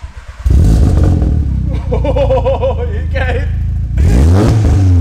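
A VW Golf R fitted with a new exhaust, downpipe, intercooler and induction kit starts up, then revs loudly in sharp bursts with a rattly, clattering tone; a short spoken word comes just before the engine fires.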